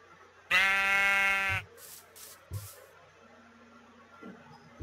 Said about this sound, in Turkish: o koyun nasıl geldi oraya